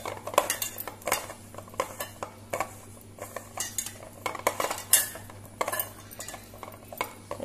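Chilli paneer being mixed in a pan, Goan style, with repeated close metallic clinks and scrapes of a utensil against the pan in an uneven rhythm, and no voices.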